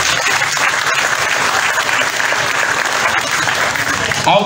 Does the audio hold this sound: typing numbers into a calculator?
no